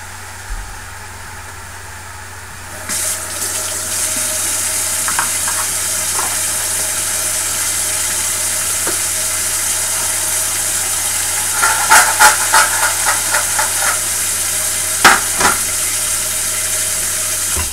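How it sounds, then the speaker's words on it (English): Beef and tomatoes fry in a pan while being stirred, a loud, continuous sizzle and hiss that starts suddenly and carries on, broken by scattered scraping knocks and clinks from the stirring utensil. "So I'm just incorporating the tomatoes in with this beef."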